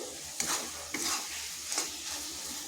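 Boiled potatoes and cauliflower stirred in a pan for a vegetarian cauliflower dish, with three distinct scraping, stirring passes over a soft background sizzle, fairly close.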